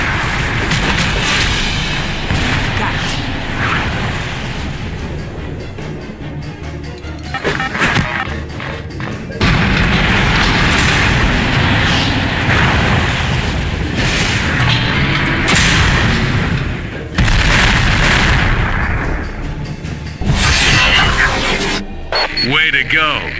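DNA tanks in X-Men Legends II: Rise of Apocalypse are blown apart in a string of loud booms and splintering crashes, with a voice talking over the repeated blasts.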